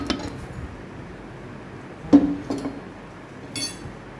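Tempering is tipped from a small pan into a pot of tomato curry, giving a couple of clinks of metal on metal and a short splash of sizzling. The sounds are close and fairly quiet, and no one speaks.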